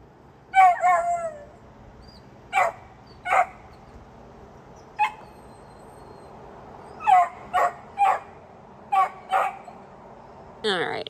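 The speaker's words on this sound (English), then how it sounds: "Oh, you have a jealous puppy." A small dog lets out a run of short, sharp barks and yips in separate bursts, some with a whiny edge, close by over a quiet background.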